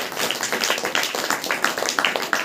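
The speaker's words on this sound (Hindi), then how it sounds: "ताली बजाकर परमेश्वर को धन्यवाद।" Church congregation clapping together in thanks, a loud, fast run of overlapping hand claps with a lively irregular rhythm, close and continuous throughout.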